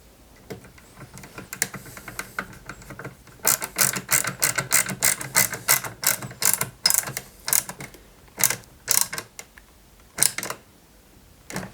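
A small screw is driven into a 1/8 scale Subaru Impreza WRC 2003 model kit, giving close bursts of rapid ratcheting clicks separated by short pauses.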